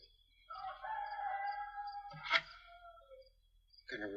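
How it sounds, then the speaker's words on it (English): A rooster crows at 4:30 in the morning in the countryside, one long loud cock-a-doodle-doo rising and falling over a couple of seconds, then the start of a second crow. "What kind of rooster crows at 4:30 in the morning?"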